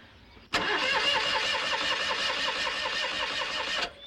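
Flooded car engine being cranked but failing to catch, a steady rhythmic starter churning that begins abruptly, runs unbroken for over three seconds at close range, then cuts off.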